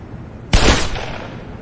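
A single sharp, loud shot from a long-range gun in the game Black Mesa, cracking suddenly out of quiet and trailing off in a brief echoing tail.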